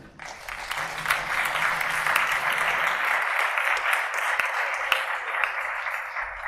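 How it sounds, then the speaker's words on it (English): Audience applause for the sponsors at a venture day keynote event in Tokyo: a sustained, dense wash of many hands clapping, steady and fairly loud throughout, with no talk over it. "a round of applause for them"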